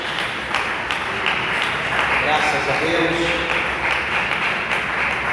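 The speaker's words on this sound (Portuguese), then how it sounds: "dê uma salva de palmas bem alegre para Jesus" Applause from a church congregation, a steady wash of clapping that continues while someone speaks over it.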